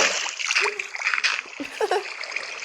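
Water splashing and sloshing in bursts in a Minecraft horror mod, with a voice talking over it.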